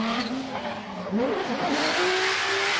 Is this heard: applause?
no